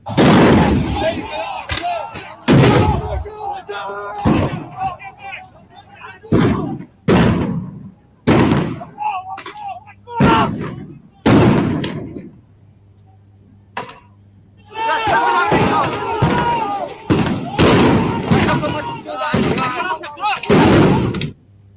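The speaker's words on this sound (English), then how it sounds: "showing what the gunfire looked like between the pro-Iran protesters and Iraqi security forces" Gunfire between pro-Iran protesters and Iraqi security forces in Baghdad: loud, sharp bangs in irregular bursts across the scene, some in rapid clusters, with a brief lull midway and crowd voices mixed in.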